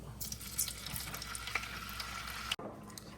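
Cut-up ham frying in leftover grease in a pan, giving a steady close hiss and crackle of sizzling with scattered pops, cut briefly by a sharp dropout near the end.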